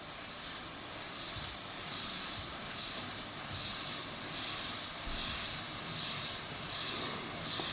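A Takumi 0.35mm airbrush sprays thin paint at low pressure, giving a steady, soft airy hiss that runs unbroken throughout and gently swells and fades.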